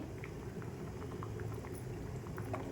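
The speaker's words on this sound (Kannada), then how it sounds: "ಇದು ಸಾರು ಖಾರ ಎಲ್ಲ ಹಾಕಿ ಎಲ್ಲ ಮಾಡಿದ್ಮೇಲೆ ಬೇಯ್ತಾ ಇದೆ" Jackfruit sambar, made with salt, chili and ground masala, simmers in a pot with a faint, steady bubbling and soft scattered pops, close by and quiet.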